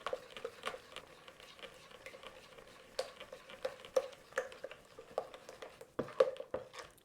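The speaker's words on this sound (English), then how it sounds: "all we're going to do is mix this all together so everything's completely dissolved" A fruit and nut slice mixture stirred in a bowl: irregular soft scraping taps and clinks of a utensil against the bowl, close and quiet, with sharper knocks now and then.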